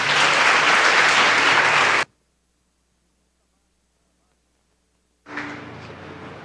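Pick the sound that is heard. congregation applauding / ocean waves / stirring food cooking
congregation applauding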